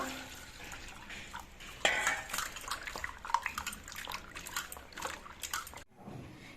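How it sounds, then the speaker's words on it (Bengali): Whole olives are washed in water, with splashing, trickling, and rattling as they are swished around in a metal bowl, ending abruptly. "এবার এই জলপাইগুলো আমি ধুয়ে পরিষ্কার করে নেব"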